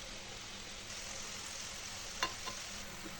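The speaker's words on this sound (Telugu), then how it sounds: "ఇలా గోల్డ్ కలర్ వచ్చే వరకు వేయించుకోవాలండి" Small pieces of dough fry in hot oil until golden, giving a faint, steady sizzle with a couple of brief stirring clinks and no talk.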